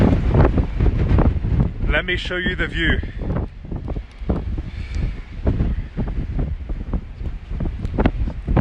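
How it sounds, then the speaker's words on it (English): Strong mountaintop wind gusts buffet a car in Tasmania, a steady low rumble running throughout under a man's nearby speech. "super windy out there guys. You might even be able to hear it against the car"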